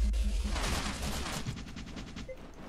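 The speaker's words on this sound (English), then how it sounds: "The crap is shooting me from above." Gunfire in the video game Murder Miners, a steady stream of rapid shots rattling over a dense, busy game soundscape at moderate level, continuing for about three seconds.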